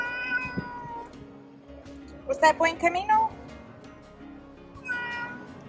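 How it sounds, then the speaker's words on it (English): A cat meows several times, giving short, close, bright calls and a quick run of meows in the middle, mixed with a person talking gently nearby. "You are a pretty cat."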